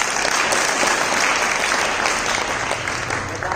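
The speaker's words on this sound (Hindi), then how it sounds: "तालियां बजा करके इसका अभिवादन" An audience at a gurukul gathering in Hyderabad claps steadily and densely for a child who has recited rules, the applause continuous and fairly loud throughout.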